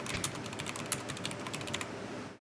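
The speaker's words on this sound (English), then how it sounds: "I just gotta finish typing it out." Quick, continuous typing on a computer keyboard, a close, soft patter of key taps that ends abruptly, with no voices.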